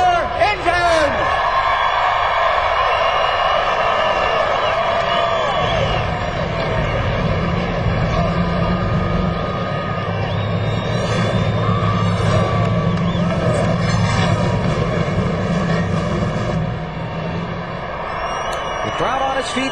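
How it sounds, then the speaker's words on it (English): Stock car engines fire up together before the 2004 NASCAR race at Atlanta, a loud, sustained, buzzing engine drone that swells and wavers against crowd noise and voices. "Gentlemen, start your engines!"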